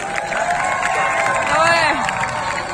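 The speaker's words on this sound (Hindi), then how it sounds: "जरा जोरदार ताली अगर हो जाए तो मुझे आपकी बेदारी का एहसास हो जाएगा।" Audience at a humorous Urdu mushaira poetry gathering, a diamond jubilee event, breaking into loud, sustained applause and cheering that fills the whole stretch, with a brief swell of shouting near the middle.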